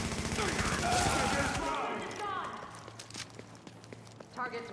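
Gunfire in a shooter video game: a loud burst of rapid shots at the start, followed by lighter shots, footsteps and game effects while someone talks over it.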